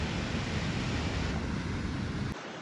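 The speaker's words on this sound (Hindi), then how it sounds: "ये देखो वाटरफॉल तो आ गया" A waterfall beside a glacier at Sissu roars in a dense, loud, steady wash of noise with spray, continuous until it drops away sharply just before the end.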